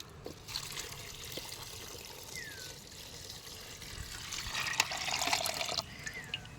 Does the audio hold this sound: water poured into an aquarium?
yes